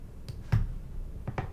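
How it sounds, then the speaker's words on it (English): Short snare drum hits auditioned one after another in Logic Pro X, four crisp, dry snaps in a brief loose pattern with a slight low thump on the second. "We'll find us a nice little snare."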